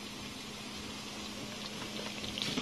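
Shallow water, about half an inch deep, boiling in a pot under a stainless steel vegetable steamer basket, giving a steady, dense bubbling hiss that holds constant throughout with no talking.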